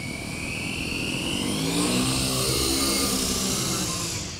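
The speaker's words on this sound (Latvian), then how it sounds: "Pirmais motors, otrais motors." Several helicopter motors run all together, making a loud, close buzzing whine whose pitch rises as they spin up and then holds steady, with no voices.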